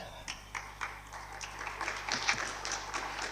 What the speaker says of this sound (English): More applause as you sit down.